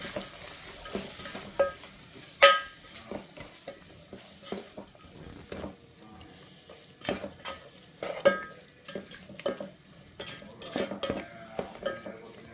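A spoon stirs and mixes puliyogare gojju with homemade bele saaru powder in a pan over low heat, gentle sizzling under irregular scraping strokes and a few sharp metal clinks, close up with no talking.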